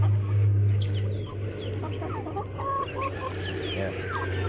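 Free-range heritage hens cluck and chatter nearby in a busy, overlapping flock, their short calls rising above a steady low droning hum.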